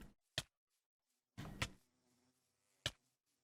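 Minecraft bees buzzing and attacking on a multiplayer survival server, three short sharp buzz bursts spread apart with quiet gaps between, fairly faint and with no talk.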